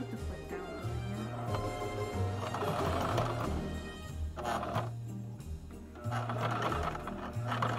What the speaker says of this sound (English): Now we can start sewing.